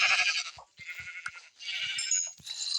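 Sheep in a Minecraft-style hunting game during winter, bleating in several short, close, clear calls separated by brief pauses, with no talk.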